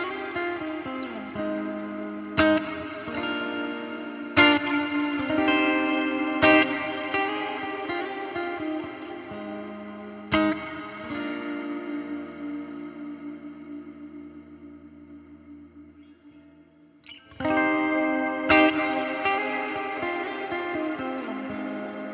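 Electric guitar played through a Flamma effects pedal, with distorted chords struck every couple of seconds and ringing out with reverb, fading into a long decaying tail before a fresh strum returns.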